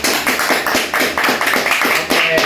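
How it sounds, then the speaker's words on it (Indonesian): Audience clapping for former Indonesian president Susilo Bambang Yudhoyono at the close of a podcast, a dense, steady burst of many hands filling the short clip without pause. "Beri tepuk tangan untuk Bapak SBY."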